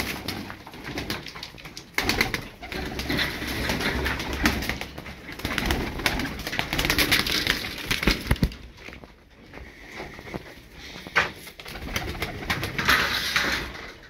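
A pigeon breeder's flock coos steadily and softly at close range, low rounded calls overlapping throughout, with occasional light knocks and brief wing flutters in the loft and no voices.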